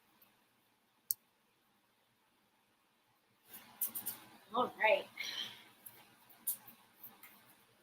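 A Wild Unknown Archetypes card deck is shuffled by hand, producing soft, rapid papery riffling and clicks after a lone tap, while a person talks briefly over it nearby.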